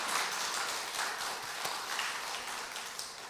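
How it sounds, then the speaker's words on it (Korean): A church congregation claps steadily in a dense, sustained wash of applause, fairly even throughout, heard from within a large room. "그러신 하나님께 영광의 박수 한번 돌려드립니다"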